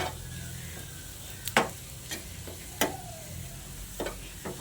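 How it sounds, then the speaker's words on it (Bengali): Onions frying with turmeric and Kashmiri chilli powder for masoor dal give a steady low sizzle, broken by several sharp spatula scrapes and stirring knocks. "তারপর আবারও পেঁয়াজের সঙ্গে ভালো করে ভেজে নিচ্ছি।"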